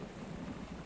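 Steady rain with low rumbling thunder from a storm in a cartoon, a continuous soft wash of falling water over a deep, rolling undertone, heard alone with no talking.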